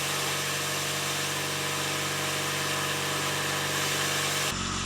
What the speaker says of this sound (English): So now our reels are turning backward, opposite of when they're cutting grass.